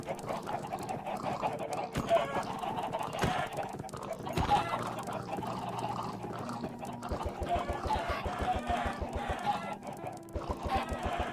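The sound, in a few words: chickens clucking in Minecraft, a video game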